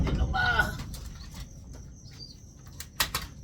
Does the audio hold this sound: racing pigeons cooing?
yes